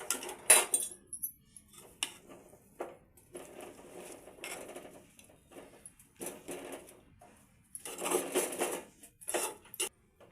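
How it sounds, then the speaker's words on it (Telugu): A metal spatula stirs rice flour upma in a pan, giving irregular scraping and clinking bursts in short and longer spells, close and moderately loud, with quieter gaps between. "సరాతం కొన పట్టి ఇట్లా కలపాలి మంచిగా అడుక్కేలు కలుస్తుంది"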